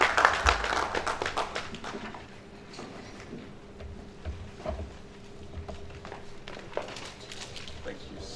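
Audience applause for a professor at an academic event on grantsmanship and research culture in a college of health science: clapping that is loudest at the start and fades within a couple of seconds, then speech continues over the room.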